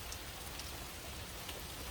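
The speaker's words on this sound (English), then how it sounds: "it's been raining for about, oh, probably" Steady rain falls outside a tiny cabin in the woods, an even, dense patter of drops on surfaces that holds constant throughout, with no voices and no wind.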